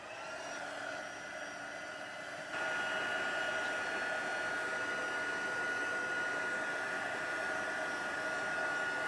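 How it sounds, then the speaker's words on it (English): A crafting heat tool blows hot air with a steady, loud whooshing hum, stepping up slightly in intensity partway through and continuing unbroken, with no talking. "let's bring the heat tool back in"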